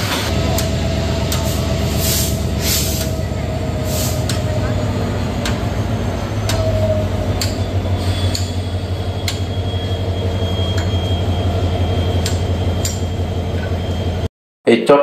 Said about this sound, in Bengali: চট্টগ্রাম রেল স্টেশন থেকে 11:40 ট্রেনটি আবারও চলতে শুরু করেছে কক্সবাজার উদ্দেশ্যে।